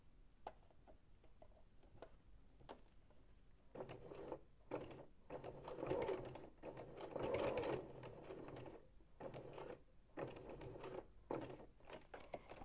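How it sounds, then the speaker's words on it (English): Sewing machine stitching a custom label onto a garment, running in steady mechanical bursts that start and stop, with louder dense runs in the middle and brief quiet gaps between passes. "just flip this over and then sew it back the other way"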